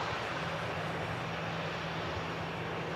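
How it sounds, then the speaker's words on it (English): A Malta Air airliner arriving on the south side of the airport, heard as a steady, fairly distant engine roar with a low droning hum that holds evenly throughout, no voices. "That Malta Air on the south side arriving in."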